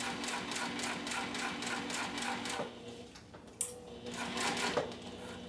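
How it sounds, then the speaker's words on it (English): A sewing machine stitches down the sides and bottom of a fabric piece, a rapid rhythmic clatter of needle strokes close by, then a slower stretch with a few sharp knocks before the stitching resumes. "I'm going to use the seam allowance given the pattern to sew down the sides and the bottom"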